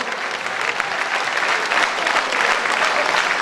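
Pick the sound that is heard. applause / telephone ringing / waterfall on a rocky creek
applause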